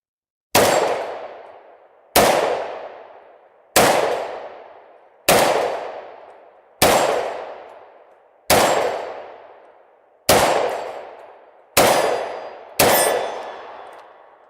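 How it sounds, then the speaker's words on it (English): A 1952 Chinese-made rifle fires military surplus ammunition at steel plate racks: nine evenly spaced, loud shots, each followed by a long metallic clang that rings and fades. "We'll fire at these plate racks."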